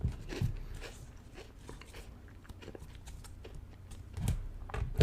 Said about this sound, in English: Sorry if you can hear me chewing, but it would make sense because these things are so daggum crunchy.